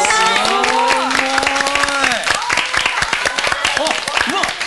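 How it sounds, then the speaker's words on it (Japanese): An audience claps for pro sailor Kazuhiro Nishimura after his record San Francisco–Yokohama crossing, steady close applause running throughout while a voice speaks over the start. "拍手してください。"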